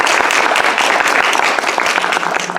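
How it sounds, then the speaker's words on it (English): An audience claps warmly throughout at an International Women's Day celebration with the Commission on the Status of Women, dense steady applause close and loud with no pauses. "Round of applause for her."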